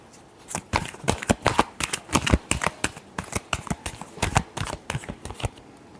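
A deck of tarot cards is shuffled up close, a quick rapid run of crisp slaps and riffles in a busy, uneven rhythm with no talk over it.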